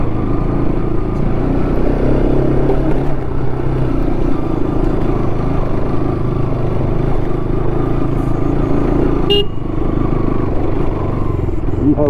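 A Bajaj Pulsar NS200 motorcycle rides along a rough, potholed jungle safari track at sunset, its engine droning steadily and loudly with wind and clatter from the bumps.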